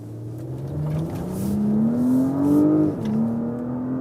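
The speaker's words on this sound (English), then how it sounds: "All right, Sport Plus. Let's accelerate it out." A 2024 Porsche Cayenne V6 SUV in Sport Plus mode accelerates hard, its engine note rising steadily through the gear, dipping at a shift and climbing again, heard loudly from inside the cabin without talk.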